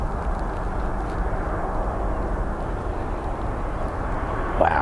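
An airliner rolls for takeoff on runway 09R at London Heathrow with a steady, broad engine roar from moderate distance. The sound holds even throughout, with no voices.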